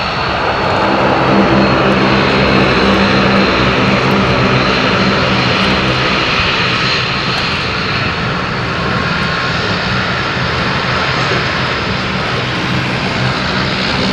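Aircraft engine roar at London City Airport, a steady loud broadband drone with low propeller-like harmonics holding throughout, no speech.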